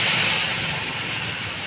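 A paste of ground mustard, poppy seed and green chilli hits hot oil with a loud, continuous hiss and sizzle close up, steady across the short moment.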